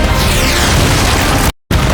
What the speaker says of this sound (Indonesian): langsung spam missile barrage yang bikin gerombolan Legion meledak berkeping-keping kayak kembang api